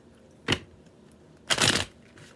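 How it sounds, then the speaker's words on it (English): Two quick bursts of tarot card shuffling, a short riffle followed a second later by a longer, louder one, close up with no talking. "Let's give this a good shuffle."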